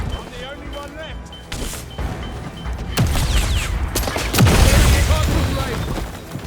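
Loud grenade blasts and rapid bursts of gunfire ring out in the shooter video game 007 First Light, booming close and heavy as the intensity builds, while players shout over the battle.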